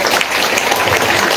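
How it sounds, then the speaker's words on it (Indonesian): Audience applause at a school event at SMP Negeri 5 Wonogiri, a steady dense wash of clapping filling the whole short stretch at fairly loud level, with no clear voices on top. "Jadi tepuk tangan dulu."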